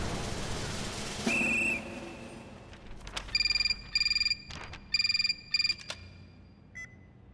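A telephone rings at a women's police station in Lucknow, a bright electronic trill in four short bursts after a brief tone, clear and close against a quiet room.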